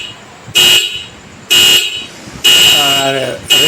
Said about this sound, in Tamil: ஹார்ன் சவுண்டு நல்லாயிருக்கும்